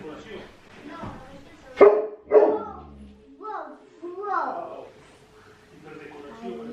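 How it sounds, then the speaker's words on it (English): A dog barks a few times at close range, loud sharp yelps mixed with whining, while a person talks in between. "That's why she keeps on barking."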